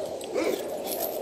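Aging dog whimpering outdoors in a yard, a short soft whine that swells briefly in the middle of an otherwise steady, low-level background, close and faint.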